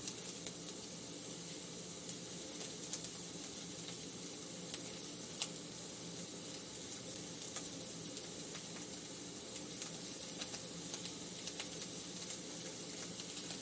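Steady, quiet sizzling of onions frying in a pan, a soft continuous hiss with faint crackles and pops scattered throughout.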